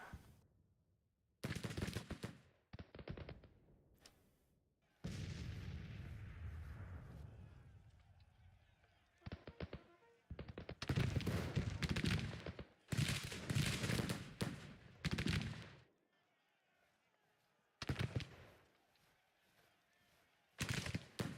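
Cannon artillery fire in the Civil War strategy game Grand Tactician, several deep booming bursts spaced irregularly, loud and rumbling, with someone talking between the shots.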